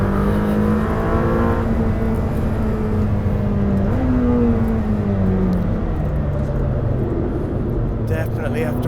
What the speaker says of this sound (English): very nice sound. It's braking.